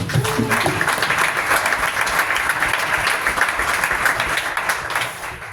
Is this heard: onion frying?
no